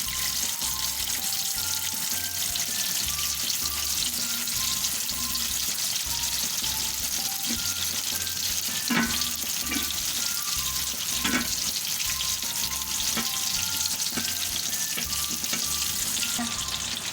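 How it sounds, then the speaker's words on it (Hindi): Gola kebabs fry in oil over medium heat, giving a continuous close sizzle and bubbling hiss with a few small pops, and a low rhythmic hum repeats underneath. "मीडियम आंच पर अपने कबाब तलेंगे"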